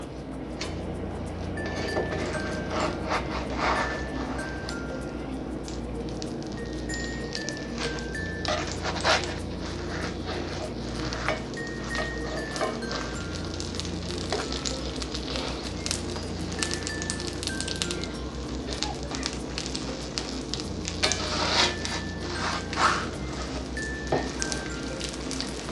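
An omelette seasoned with salt and parsley flakes is flipped in a hot pan and gives off a steady, dense sizzle for the whole stretch, with no voices over it.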